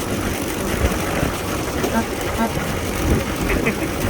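A 1912 Buick Model 35 with straight-through exhaust runs steadily, a low, rough engine drone heard from on board while driving through countryside, continuous and fairly loud throughout.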